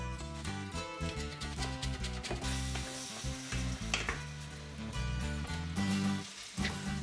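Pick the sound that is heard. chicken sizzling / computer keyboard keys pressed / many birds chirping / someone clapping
chicken sizzling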